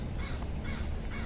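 Along a Washington street where pigeons are being fed, a crow gives three harsh caws spaced about half a second apart, fairly close, over steady background noise.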